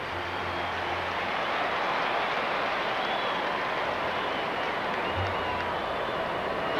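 Ballpark crowd at a Minnesota Twins baseball game against the Athletics, a steady broad roar of applause and cheering filling the stadium without pause.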